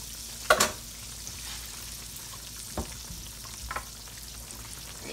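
Squash frying in a pan gives a soft steady sizzle, with a sharp clatter near the start and a few light stirring scrapes later, close by and without voices.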